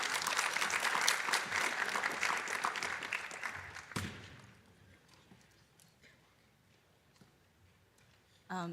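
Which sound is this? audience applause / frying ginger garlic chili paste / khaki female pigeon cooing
audience applause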